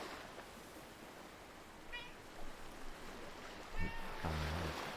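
A pet cat named Gila meows softly two or three times in a quiet room, the cries faint and spaced apart over a steady low hiss.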